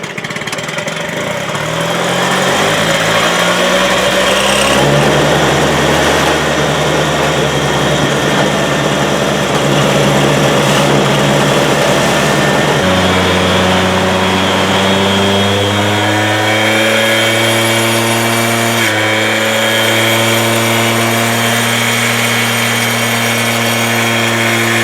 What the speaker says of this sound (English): Looks like our idle speed's a little high.